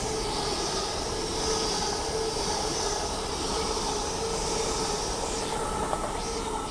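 An LNER class 801 train passing through Doncaster station on the East Coast Main Line, a steady broad rumble and rushing roar of wheels and motors that holds at one level throughout, close and loud.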